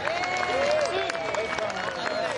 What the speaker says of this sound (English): let's give another big round of applause for the Medieval Fight Club projectile display